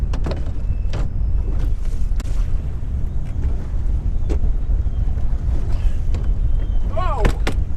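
Wind buffets a fishing boat on a lake during late-fall muskie fishing, a loud continuous low rumble across the microphone with occasional bumps and knocks, and a brief voice near the end.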